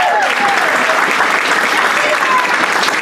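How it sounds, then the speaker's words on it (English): Audience applause for the guests of honor at a 2017 Hall of Fame induction ceremony: a loud, continuous wash of clapping from a large crowd, with some voices mixed in, filling the whole span. "Round of applause for our guests of honor."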